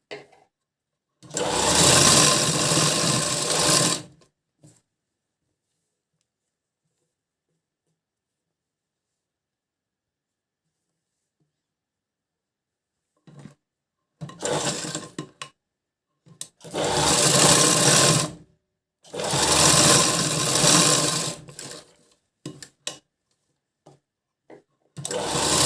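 A sewing machine stitches a blouse in several short bursts of loud, even whirring, with long silent pauses between runs and no talking.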